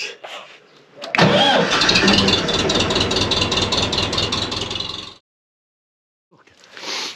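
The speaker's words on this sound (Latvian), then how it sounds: "Kā jūs redzat, traktors lēc uz pusapgriezienu." An old tractor left parked since autumn cranks briefly, then catches and roars loudly for about four seconds before cutting out; a fainter engine-like sound returns at the very end.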